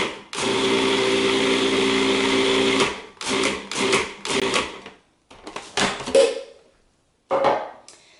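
A food processor mincing spinach for a Persian spinach and dried plum stew runs in a loud, steady whir for about three seconds, then switches to a series of short, choppy pulses with brief pauses between them.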